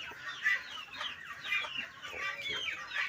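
Free-range chickens clucking repeatedly at feeding time while being given a mix of banana stalk and grass, several close, moderately loud overlapping calls in an uneven rhythm.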